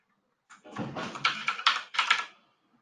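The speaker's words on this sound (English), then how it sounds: "Let me type in all the details." Registration details being typed on a computer keyboard: a short run of quick, close key clicks lasting about two seconds, alone without talk.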